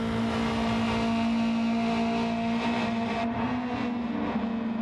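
A race car engine in the Gran Turismo 7 video game holds a steady high drone with a thin whine, continuous and even in level throughout.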